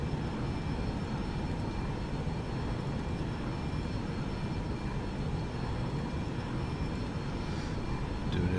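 Simulated Boeing 737 jet engines at takeoff in X-Plane 11, a steady, moderately loud roar with a faint high whine, unchanging throughout.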